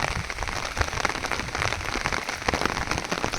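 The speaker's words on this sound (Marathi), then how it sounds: "गेल्या 3-4 दिवसात जो मुसळधार पाऊस पडत आहे" Heavy monsoon rain pours down steadily, a dense hiss of drops pattering on surfaces with scattered louder splashes, close and continuous, with no voices.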